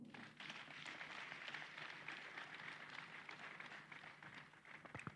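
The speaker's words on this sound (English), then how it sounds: "A round of applause, please." Audience at the opening ceremony of a national pharmacists' scientific conference applauds in a continuous, steady patter, quite faint and distant throughout, with a few sharper claps standing out near the end.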